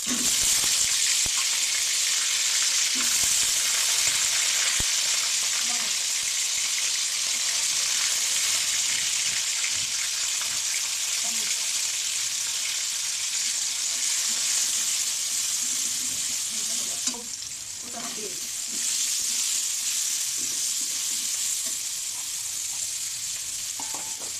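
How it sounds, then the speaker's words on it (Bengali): Potatoes frying in a pan with cumin and whole garam masala bark, a steady broadband sizzle holding throughout with light stirring scrapes and a brief clatter near the end. "আলুগুলো ভেজে নেব।"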